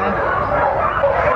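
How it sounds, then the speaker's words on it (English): Sled dogs waiting to pull a cart on a Skagway, Yukon tour yip and bark excitedly in a dense, continuous chorus, with people talking over the din. "you can hear those cart ride dogs."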